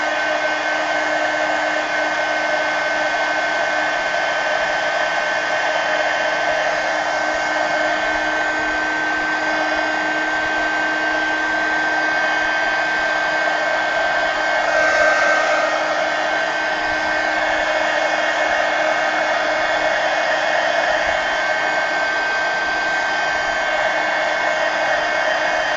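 A hair dryer blows continuously and loudly at close range while drying a mixed media collage on a pumpkin, its steady whine holding unchanged for the whole stretch.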